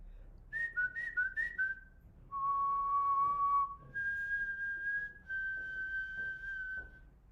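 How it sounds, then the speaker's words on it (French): A person whistles alone in a quiet room, first a quick run of short rising and falling notes, then three long sustained tones held for about a second each, clear and fairly close. "Comment je me représenterais par un sifflement?"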